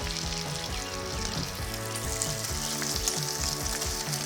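Butter sizzles and fries steadily on a 28-inch Blackstone Pro griddle ahead of pancakes, a close, continuous crackle with faint tonal music underneath.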